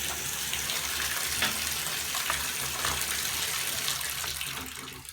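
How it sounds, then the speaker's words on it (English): Water runs steadily from a Moen Mixet shower faucet after a handle and cartridge replacement, a continuous broadband hiss and splash held close and at even loudness throughout, with no talking. "And now, when I test it, turn the water back on,"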